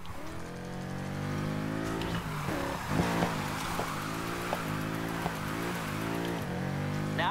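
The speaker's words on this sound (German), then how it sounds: "Ein letzter großer Drift noch." A car engine revs hard through a drift in the Need for Speed Heat video game, a loud, steady engine tone that dips and surges repeatedly as the throttle is worked, with no talk over it.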